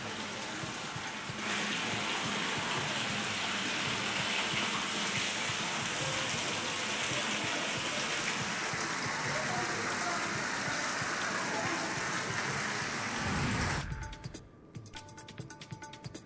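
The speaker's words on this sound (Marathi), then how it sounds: "पावसामुळे तुळजाभवानी मंदिरातील गोमुख तीर्थकुंडावर नैसर्गिक झरा सुरू झालेला आहे" A natural spring pours after rain into the Gomukh tirtha kund tank at the Tulja Bhavani temple, giving a steady rushing wash of water close by that runs without a break, then drops away sharply near the end.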